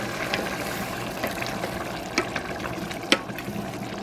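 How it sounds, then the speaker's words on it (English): Boiling hot water poured onto rice for stuffed peppers in a home kitchen, a steady close pouring and gushing wash with a few small splashes and clinks, no voices. "then you boil hot water, and we're gonna add that on here"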